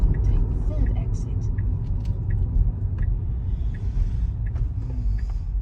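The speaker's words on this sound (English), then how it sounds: "So Milton Keynes is very busy today, lots of cars around" Busy road traffic in Milton Keynes on a sunny, chilly, windy day, heard from inside a Tesla Model Y Long Range as a continuous low road rumble with cars passing nearby, alongside talking.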